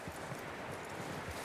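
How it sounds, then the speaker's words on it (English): Horse hooves clip-clopping in the Red Dead Redemption 2 video game, a steady, fairly quiet rhythmic stepping of low thuds repeating through the short moment with no talk. "That looks like a decent horse."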